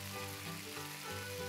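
Kebab of canned meat sizzling over heat in the post-apocalyptic cooking game Cooking Simulator Shelter, a steady, close frying hiss that runs alone without pause.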